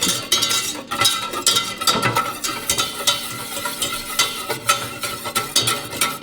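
Milk and flour are whisked into a paste in a bowl, with quick, rhythmic scraping strokes of the whisk repeating close up and no talking.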